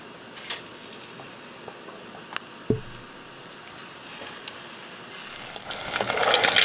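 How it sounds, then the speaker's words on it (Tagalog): String beans fry in hot oil to make crispy sitaw. A faint background with a few clicks and taps swells into a bright, building sizzle in the last seconds. "magpapainit na ako ng mantika para may prito na natin tong ating sitaw"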